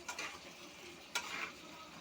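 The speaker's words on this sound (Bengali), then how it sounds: "ভালো করে নেড়ে নিচ্ছি।" Bitter gourd and potato pieces stirred in a frying pan, soft scraping strokes and a couple of brisk stirring swipes over a quiet, continuous sizzle of hot oil.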